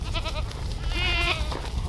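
A Kiko goat bleats repeatedly in a farm pen, a series of close, wavering cries with short pauses, over a steady low background rumble.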